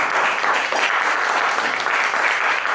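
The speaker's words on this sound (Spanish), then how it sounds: "Vamos a darle un aplauso a la doctora." Sustained applause from a seated audience for a doctor at a medical talk on subclinical hypothyroidism, dense and even from start to finish with no voices on top.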